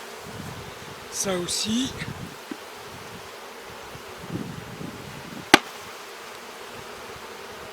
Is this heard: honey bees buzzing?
yes